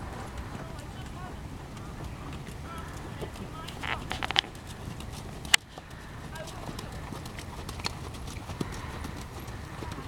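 Horse hooves cantering or trotting during a riding lesson, a steady rhythmic clip-clop on soft ground running throughout at moderate distance, with faint background noise.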